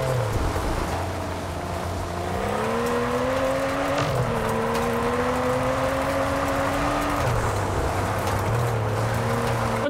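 Engine of a diesel car in the Test Drive Unlimited racing game, a steady droning hum that rises in pitch over several seconds, dips, then climbs again, heard loud and close with no talk.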